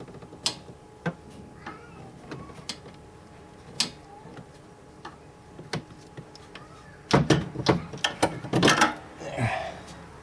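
A torque wrench clicks sharply several times while tightening turbo bolts on a 7.3 Power Stroke diesel, short metallic ticks spaced irregularly, then a denser cluster of clicks and clatter near the end.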